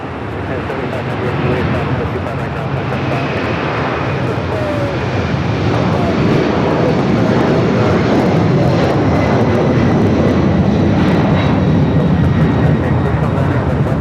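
A jet airliner roars past at Los Angeles LAX airport, a loud, steady broadband rumble that holds and swells slightly over the whole stretch, with faint background talk beneath.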